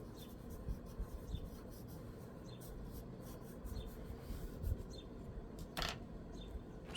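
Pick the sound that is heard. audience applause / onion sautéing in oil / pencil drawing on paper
pencil drawing on paper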